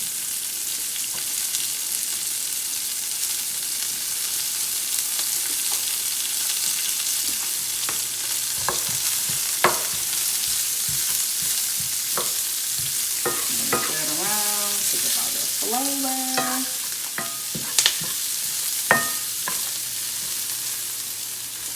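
Onions and coleslaw mix fry in a pan with a constant close hiss, while stirring brings scattered scrapes and clinks and a few squeaky metallic tones midway.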